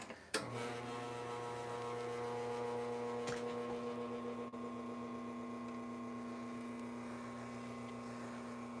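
An espresso machine pump hums as it builds pressure for a shot, starting abruptly and holding a steady, loud drone with one brief click partway through.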